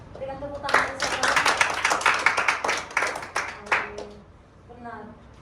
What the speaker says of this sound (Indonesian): Berikan tepuk tangan saudara.